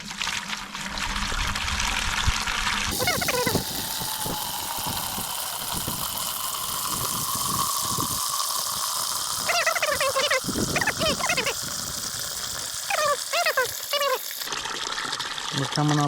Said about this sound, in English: I want to see how fast this is flowing.